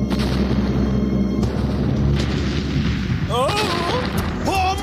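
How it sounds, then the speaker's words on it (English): A heavy, rumbling boom from barrel bombs going off in a Donkey Kong Country animated episode, a loud sustained blast with cartoon voices and whooping calls rising near the end. "Barrel bombs."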